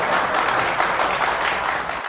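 Loud, dense applause from a studio audience on an Odia television reality game show, a steady wall of clapping that holds for about two seconds before cutting off abruptly.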